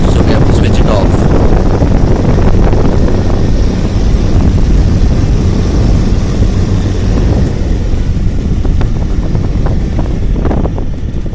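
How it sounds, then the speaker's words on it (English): A Crompton Greaves Transair exhaust fan, rewound after a burnt winding, runs with noisy bearings, giving a loud, steady broadband roar and rumble that holds unchanged throughout. "The bearings are a bit noisy."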